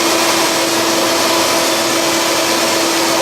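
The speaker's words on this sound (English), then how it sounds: "Make sure you got good control of both your rotary tool and your knot so that it doesn't get out of control." A rotary tool sands the edge of a shaving brush knot with a continuous, loud, high whine and steady grinding hiss, close and unbroken throughout, with no voices.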